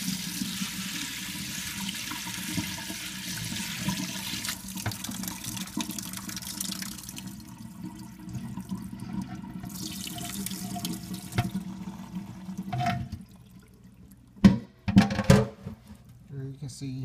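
Water drains and splashes in a sink while rinsed spoonbill eggs are strained for caviar, a continuous running wash under soft talk, ending in a few sharper clatters and splashes.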